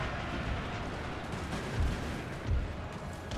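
Musket volleys crackle in the Napoleon: Total War battle, a dense continuous wash of distant gunfire with two heavier thumps standing out, no voices.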